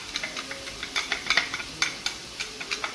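Chickpeas are stirred in hot oil with spices, a spoon scraping the pan in quick irregular strokes over a steady close sizzle, with no talking.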